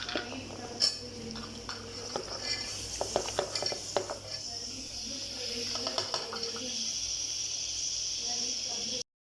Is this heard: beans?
yes